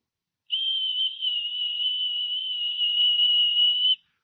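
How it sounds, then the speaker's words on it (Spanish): A gentle, steady whistle-like tone, used as a sound effect for a still, small voice, sustains evenly for about three and a half seconds, alone and clear with no talking. "Un silbo apacible y quieto"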